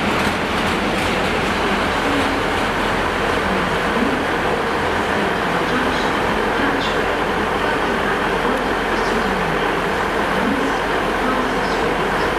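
A steady, loud rumble of Great Western Railway wagons rolling by on the Rhymney line near Cardiff, with faint rhythmic clatter, continuous throughout with no talking.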